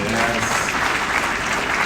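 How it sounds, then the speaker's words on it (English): Round of applause from an awards ceremony audience for an absent honoree, dense, even clapping filling the room, recorded in low quality. "let's give him a big round of applause"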